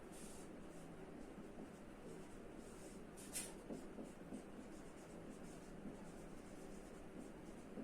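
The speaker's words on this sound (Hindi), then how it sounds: "चलिए लिख लेते हैं।" Marker or chalk scratching steadily across a board in a Hindi-medium English grammar lesson, a quiet continuous rubbing texture with low room hum and no talking.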